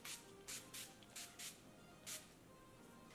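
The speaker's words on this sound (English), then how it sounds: "I'm gonna set my whole face with the NYX setting spray." NYX makeup setting spray misted onto a face in several short, soft hissing bursts with brief pauses between them, close up and fairly quiet.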